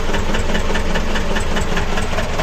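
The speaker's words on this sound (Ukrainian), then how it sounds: "Давайте не будемо газувати на холости." A tractor engine idles loud and close, a steady rough knocking chug with some hiss, with no voices over it.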